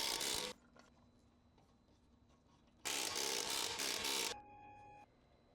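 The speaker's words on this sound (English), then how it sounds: "Reinstall the nuts. Tighten using a 19mm socket." Wheel nuts on a 2013-2015 Ford Escape are run down with a 19mm socket on a power tool, two loud whirring bursts, the second about one and a half seconds long, separated by quiet clicks.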